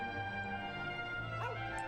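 A dog in the Dragon Quest VIII video game gives a few short yipping barks over steady, sustained game music, close and moderately loud.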